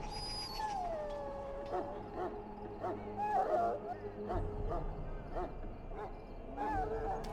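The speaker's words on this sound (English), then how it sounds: "Now I can treat the dog properly, poor fellow." Dog whimpering and whining in the fantasy role-playing game Dragon Age Origins, a series of high, pitched whines and yips rising and falling over a soft ambient background.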